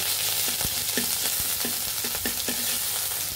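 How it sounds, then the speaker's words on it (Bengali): Oil sizzles steadily as ginger fries with dried red chillies, with repeated light scraping knocks of a spatula stirring in the pan. "আদাটা ভাজা ভাজা হওয়া পর্যন্ত এভাবে নিতে হবে।"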